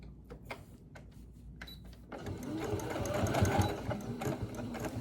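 A sewing machine runs a short back stitch, first a few isolated clicks and thumps, then a rapid, louder mechanical whirring burst of stitching up close.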